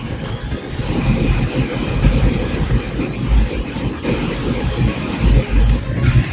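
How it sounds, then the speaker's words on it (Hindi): A train rolls past at Nizamuddin railway station in Delhi, a loud, continuous rumble with rhythmic wheel clatter and a steady metallic hiss and no voices. "निज़ामुद्दीन रेलवे स्टेशन है बहुत बड़ा, जहाँ से राजधानी और दूसरी जो ट्रेन हैं वो सभी चलती हैं।"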